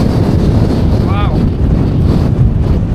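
Strong, steady wind roars across a hilltop on the North York Moors, buffeting the microphone with loud, continuous low rumble and gusts from start to finish.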